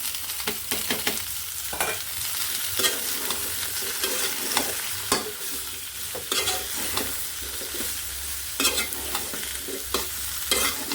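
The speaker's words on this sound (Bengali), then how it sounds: "জালি কুমড়ার আলু তারপরে এই তেলে তেলে আর পেঁয়াজে ছেড়ে দেবো" Ash gourd and potato fry in oil with onions, stirred busily with repeated scraping and clattering strokes of a utensil over a constant close sizzle.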